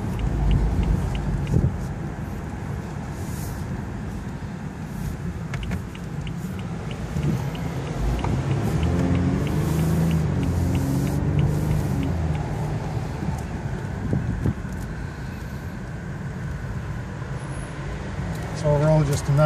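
A 2014 BMW 4 Series convertible cruising on a sunny California road, its engine a steady, moderate hum mixed with road and wind noise throughout, fairly quiet rather than loud.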